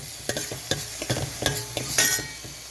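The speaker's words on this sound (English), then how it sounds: "So stir it up nicely. Fry it for about 2 minutes." Frozen corn and vegetables being stirred and fried in a pan, with irregular scraping strokes and soft clatter over a light sizzle, close up and with no talking.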